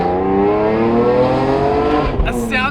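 A BMW E46 M3 with an SMG gearbox drives along, its engine giving a steady, loud inline drone with layered harmonics, then a brief shift and a rise in revs near the end.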